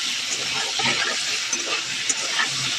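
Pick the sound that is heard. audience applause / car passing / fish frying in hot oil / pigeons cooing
fish frying in hot oil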